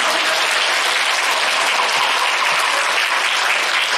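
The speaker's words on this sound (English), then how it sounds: "Give them a round of applause." Loud, dense audience applause at a school choir concert, a sustained wash of many hands clapping together without pause.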